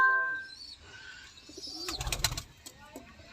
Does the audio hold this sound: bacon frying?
no